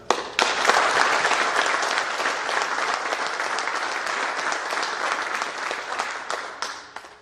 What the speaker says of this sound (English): can we please give one more round of applause for all these folks?